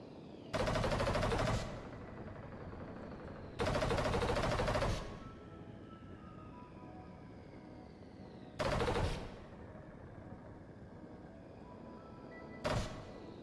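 Automated turrets in a sci-fi game built with Godot fire in four loud, rapid bursts of gunfire separated by quieter pauses filled with a faint electronic hum.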